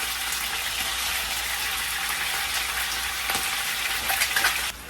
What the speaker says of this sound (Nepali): अब चाहिँ मैले यसमा मासु हाल्छु र यसलाई फ्राई हुन दिन्छु